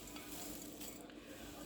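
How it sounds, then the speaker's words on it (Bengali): Flattened rice and peanuts dry-roasting in a pan without oil give a faint, steady rustling hiss with soft stirring scrapes, continuous and fairly quiet throughout. "হয়ে গেছে আমার চিড়া আর বাদাম ভাজা। এই যে সুন্দর শব্দ"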